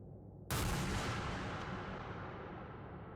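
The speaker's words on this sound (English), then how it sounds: "With a final bang, Jimmy takes his own life." A single gunshot in the video game Mouthwashing bursts out suddenly after a moment of silence, loud and booming, then trails off in a long fading rumble and reverb.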